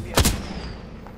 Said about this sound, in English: Is that our airstrike or what is that?